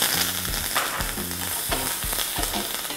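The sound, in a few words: curry leaves sizzling in hot tempering oil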